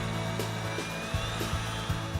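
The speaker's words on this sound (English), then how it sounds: "drill with a 13/64 or number 7 drill bit" A drill with a 13/64 or number 7 bit boring mounting holes in a metal door frame, a continuous steady whirring hum with faint periodic catches, close and unbroken over a couple of seconds.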